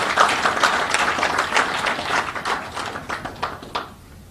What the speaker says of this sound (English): I think they deserve a big round of applause for this.